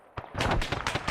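Tank cannon shot in a military video game, a single heavy blast followed by rapid rumbling reports and echoing bursts, loud and close within about a second.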